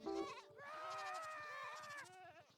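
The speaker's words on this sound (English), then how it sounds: "somehow the screaming goat survived all of the creepers" A screaming goat in the video game Minecraft lets out a loud, drawn-out bleat lasting about two seconds, with a short cry just before it, heard alone with no talk.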